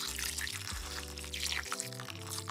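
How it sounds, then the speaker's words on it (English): Hot water pours into a Dutch pot of pigtail, smoked neck, beef rib and chicken foot for Jamaican stew peas, a steady splashing rush heard over continuous background music. "To that, I'm going in with some hot water."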